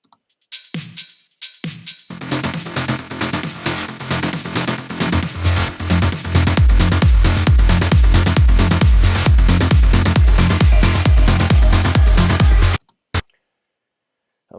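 Swung hi-hats ticking alongside a pulsing mid bass in an electronic production, starting sparse and building into a dense, loud, repetitive groove before cutting off abruptly into near silence.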